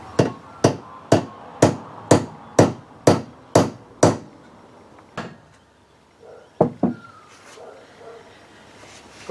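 About nine sharp, evenly spaced hammer taps ring out on a car part of a Triumph 2500 MK I, close and loud. Quieter knocks and handling clatter follow after a pause.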